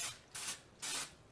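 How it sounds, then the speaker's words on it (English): Nonstick cooking spray hisses into a glass casserole dish in two short bursts of about a quarter second each, close and fairly quiet. "I'm just going to take some of that nonstick spray and spray a nice little coat in that glass dish"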